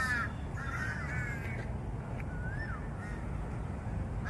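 A black bird caws in a city park, several rough calls spaced over a few seconds, fairly distant and soft against steady wind and outdoor background noise.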